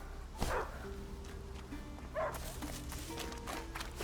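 A dog in the video game A Plague Tale: Innocence gives a few faint, spaced barks and yips amid quiet ambient game sound.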